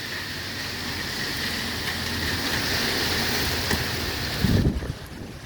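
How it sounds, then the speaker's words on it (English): Strong storm wind roars steadily in Spring Hill, Florida, a broad continuous rush like rain or gusts buffeting the microphone, building slightly toward a brief louder thump near the end, with no talking. "the wind is whipping like crazy"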